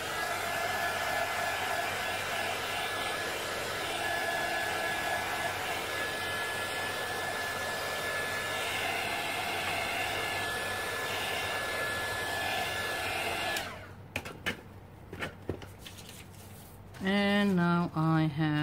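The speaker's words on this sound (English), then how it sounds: "let's give it a bit of blast from the heat tool" A heat tool blows over an art journal page in a steady, loud whirring rush for about thirteen seconds, then cuts off, followed by light handling noises and someone speaking.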